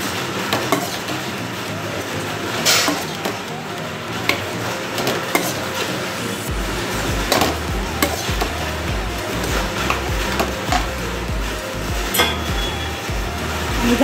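Mixed vegetables of cabbage and capsicum with spices being stirred in a pan on the stove, heard as a busy, loud run of scraping and clattering utensil strokes with steady sizzling underneath.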